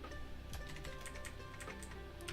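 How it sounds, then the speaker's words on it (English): Quiet, rapid clicking of keys on a computer keyboard during a stock-market livestream, an irregular stream of light taps with no talking. "Alright, no more typing."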